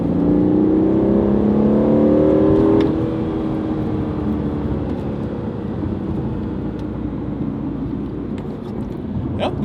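An Aston Martin with a Mercedes-AMG twin-turbo V8 accelerates hard from inside the cabin, a loud rising engine drone climbing for about three seconds, then dropping into a steady lower cruise hum with tyre and road roar.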